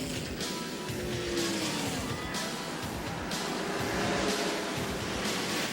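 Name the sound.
NASCAR stock cars racing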